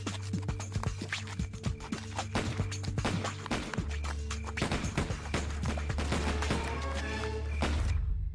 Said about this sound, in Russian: Услышала только выстрелы.